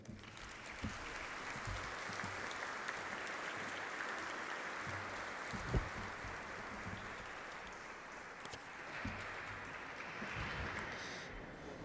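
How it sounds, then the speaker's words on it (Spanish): Strong, sustained applause from an audience at a formal farewell and recognition ceremony at Peru's Supreme Court of Justice, a steady dense clatter of clapping lasting throughout with no talk over it. "a quien recibimos con fuertes aplausos."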